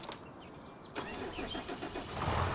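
A truck engine cranks briefly, catches with a sharp start and settles into a steady, close mid-pitched idle, heard alone for a couple of seconds.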